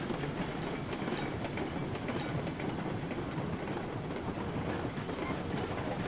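A train in the railroad video game Railroads Online rolls along with a steady dense rumble and faint clickety-clack, loud and unbroken throughout, with no one talking over it.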